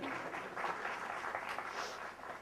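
Audience clapping after a joke in a lecture hall, a continuous spread of many hands applauding at moderate distance, fairly quiet and without voices.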